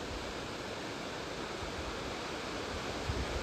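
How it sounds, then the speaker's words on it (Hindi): A Himalayan waterfall on the road to Munsiyari in Uttarakhand, heard as a steady, loud, broadband roar of falling water with no break and no voices over it. "यहाँ आके गिरता है ये झरना।"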